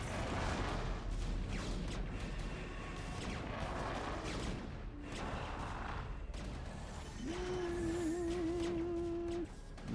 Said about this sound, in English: The cannons are putting in work against these scouts especially.